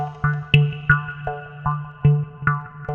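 Plucked Wood preset from the Xpand 2 synth with a phaser mix and auto-pan: short woody plucked notes in a steady melodic run, each one a bright percussive attack with a quick ringing decay, played alone.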